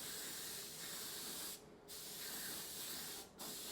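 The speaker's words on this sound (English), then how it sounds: "I mixed up some Auto Air Cosmic Sparkle because I wanted to see how this does spraying some pearls" A Gaahleri Mobius airbrush sprays Auto Air Cosmic Sparkle pearl paint in a steady, close hiss, with two brief pauses in the spray.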